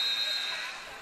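A basketball game buzzer sounds at the end of the half in a men's college game, SFU vs. SMU, as a long steady electronic tone over crowd noise in an arena that fades slightly toward the end.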